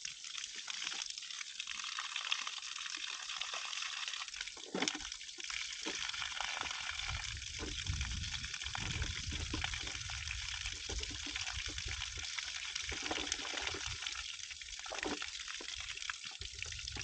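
Water leaks from holes in a plastic jug shot with a shotgun, giving a continuous trickling, splashing stream that stays steady and close, with brief louder gushes.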